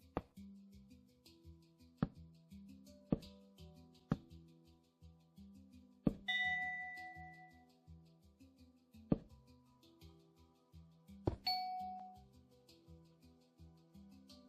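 Minecraft note blocks set on gold and packed ice, linked by two-tick repeaters, chime in a steady rhythmic pattern of bright tones, with sharper accented hits and a few ringing higher notes standing out, close and alone.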